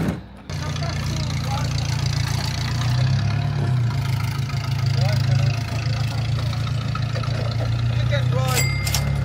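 A Ford wagon engine running at a steady idle close by, a continuous low rumble throughout, with people talking over it.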